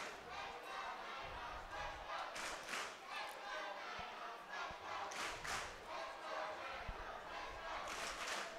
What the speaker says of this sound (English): the crowd is cheering on the team